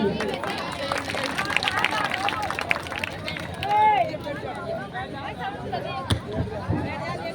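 Crowd at a Bhim Army rally claps for itself, a dense, continuous patter of many hands close by, mixed with chatter and babble from the gathering.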